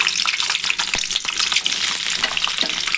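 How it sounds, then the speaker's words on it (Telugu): Eggs frying in hot oil in a kadai, a continuous bubbling sizzle with crackling pops, close and fairly loud. "ఇప్పుడు ఆయిల్ వేసుకొని కొంచెం హీట్ అయిన తర్వాత గుడ్లను కొద్దిగా వేయించుకోండి"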